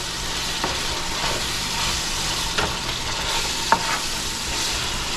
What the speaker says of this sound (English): So now, want to give that a stir.